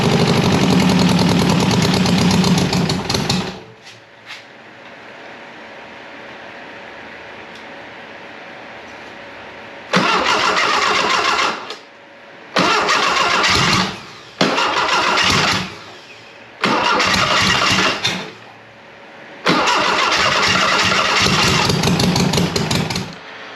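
A Volkswagen 411 engine with a non-working electric choke, fed premix fuel, runs loudly, then dies to a faint hum before being revved in several bursts of a few seconds each, with short quiet gaps between them.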